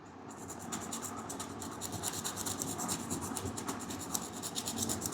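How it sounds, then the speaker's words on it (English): The tip of a charcoal pastel pencil is rubbed slowly against sandpaper, making a continuous close gritty scratching and rasping with quick back-and-forth strokes, steady in level throughout and with no voices. "first use this and this type of small sharpener to sharpen the tip like this, and then use the sandpaper."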